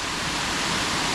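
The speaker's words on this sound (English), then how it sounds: "Watching that water come down like that." Rutledge Falls in Tullahoma, Tennessee, with water pouring down in a loud, unbroken rush of white noise, close and constant through the short stretch.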